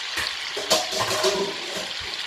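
Shrimp, peeled with tails off, sizzle and crackle steadily in melted butter in a pan, a fairly loud, continuous frying hiss with small pops.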